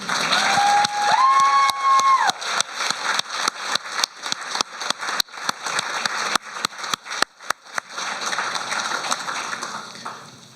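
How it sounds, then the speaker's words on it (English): Sustained applause from a crowd at a corporate employee awards show, dense clapping with scattered louder claps and faint cheering, tapering off near the end. "How about one more round of applause for Randy?"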